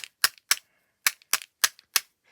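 A Posca paint marker is shaken in quick bursts at a card-making workshop. Its mixing ball gives six or so sharp, close clicks in an uneven rhythm, with short silences between them.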